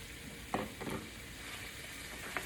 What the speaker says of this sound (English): So now what I'll do is add in those vegetables